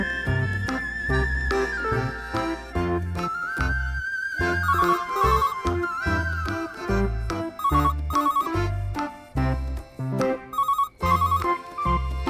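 A mobile phone ringtone plays as a loud, continuous electronic melody with repeating chimes and beats, close up and filling the whole stretch without talk.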